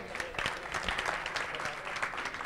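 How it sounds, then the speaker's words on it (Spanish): Applause from spectators at a robot maze competition, a steady crowd clapping at moderate volume for a couple of seconds. "Un fortísimo aplauso."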